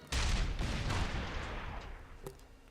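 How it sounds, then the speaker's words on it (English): A 120mm smoothbore tank cannon fires once in the video game Operation Flashpoint: Dragon Rising, a single heavy blast that decays into a long, rumbling echo. "We now have control of the 120mm smoothbore tank cannon on this thing"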